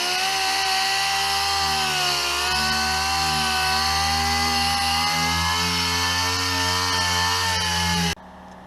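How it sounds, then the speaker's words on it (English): A power sander works over the metal body of a Chevy Silverado truck with 220-grit paper, giving a loud, steady, close-up whine with a sustained buzzing tone that runs without a break and then cuts off near the end. "I'll be starting to sand with 220 and progress from there."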